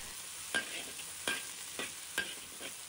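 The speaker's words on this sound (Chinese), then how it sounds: "再把调好的腐乳汁放入锅中，继续炒香一下" Water spinach stir-fried in a wok with fermented bean curd sauce: a soft, steady sizzle broken by about five sharp spatula scrapes and clanks against the wok at regular intervals, close up with no voices.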